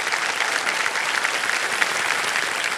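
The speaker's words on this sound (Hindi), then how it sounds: "दोनों का बहुत बहुत स्वागत तालियां बज जाएं इनके लिए।" Studio audience on the Kaun Banega Crorepati game show applauds a pair of contestants, a dense, steady wash of many hands clapping at close range without pause, with no talk over it.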